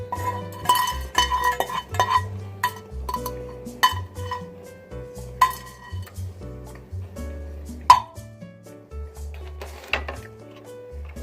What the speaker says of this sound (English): So you're mixing up real good.